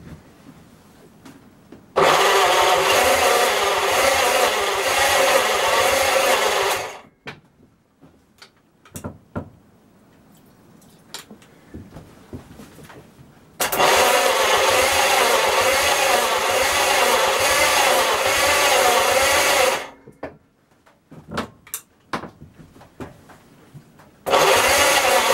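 A long-dormant Flathead V8, with petrol added and ignition on, cranks hard in two sustained bursts of about five and six seconds, and a third begins at the end. The starter whirs loudly and steadily, but the engine never catches.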